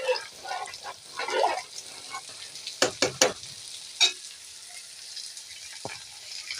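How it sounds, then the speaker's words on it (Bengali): Cumin and dried chillies sizzle as a tempering poured into dal, a soft frying hiss broken by several sharp spoon clinks and stirring scrapes against the pot. "ডালে এই যে আমি ফোড়ন দিয়ে দিয়েছি"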